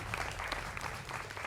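Audience applause in a television debate studio, a brief, steady patter of clapping heard fairly faintly throughout.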